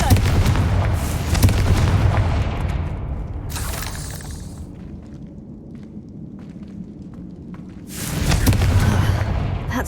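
In Hogwarts Legacy, the Confringo spell blasts spider sacks with loud, booming explosive bursts, one at the start and another near the end, each tailing off into rumbling debris.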